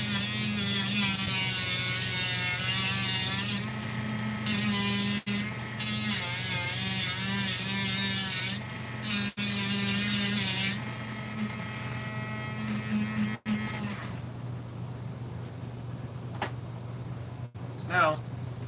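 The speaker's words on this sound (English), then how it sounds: "So this needs a little more sanding." Particle board gets sanded in loud, buzzing bursts that stop and start several times, then a quieter stretch follows.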